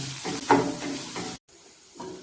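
Bitter gourd stirred and sautéed with onions in a hot pan, a steady close sizzle with scraping stir strokes, briefly cutting out before the frying hiss resumes.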